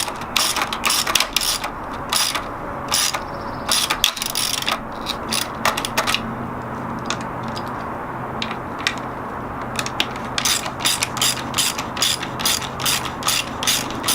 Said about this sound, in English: Just screwing away, ratcheting away, screwing some ratchets.